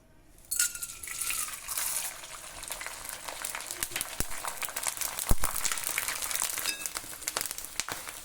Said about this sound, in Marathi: आपण हे 2 टेबलस्पून डिंक घेतलेला आहे. हे आता आपण अगोदर तळून घेऊ.